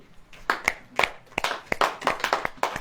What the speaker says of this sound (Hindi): ताली बजाएं ऐसे ऐसे।